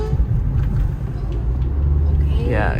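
A car pulling away and accelerating as a learner driver gives it gas and turns left, a steady low engine rumble close inside the cabin with a voice talking over it.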